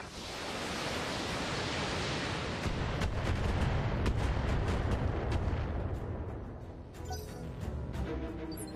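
A BattleTech mech fires a heavy barrage of LRM missiles in the video game, a loud, sustained roaring rush dotted with rapid crackling launch pops that tails off and then flares again.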